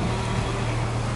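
A voadeira speedboat motor on the Amazon river, a loud, steady low engine drone with rushing wind and water noise, constant throughout the short stretch.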